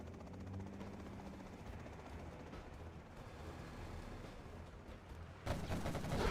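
Combat Chinook helicopters in the game C&C Zero Hour give off a steady rotor drone under scattered gunfire, ending in a louder burst of explosions and fire.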